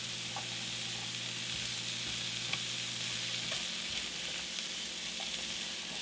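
Mushrooms and onions sizzle steadily in a little oil in a shaken pan while spaghetti meat sauce is made, a continuous close frying hiss with a few soft clinks and shifts as the pan moves, no voices.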